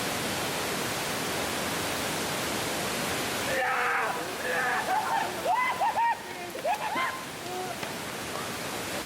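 Steady broadband rush of water at Panther Creek Falls fills the clip, then quiets slightly as voices talk and call out over the ongoing water noise.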